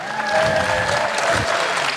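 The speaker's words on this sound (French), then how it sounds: "On l'applaudit bien fort aussi" An audience applauds at a French event, a brief, moderately loud patter of many hands clapping that carries on steadily for about two seconds, with faint murmuring beneath it.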